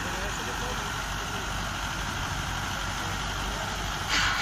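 A Mahindra 575 DI tractor engine runs steadily in second gear during a field demo with a 7-foot rotavator, a continuous loud droning hum with a brief louder surge near the end.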